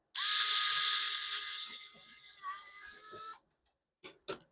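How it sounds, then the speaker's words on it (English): A small drill bores through a workpiece in one sustained whine lasting about three seconds, then a couple of short clicks follow after it stops. "drill through"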